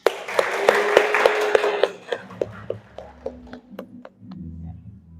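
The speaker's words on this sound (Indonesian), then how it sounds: "tepuk tangan buat kalian semua" A classroom of students claps together in a dense burst of applause that thins after about two seconds into scattered, separate claps, with a few voices faintly underneath.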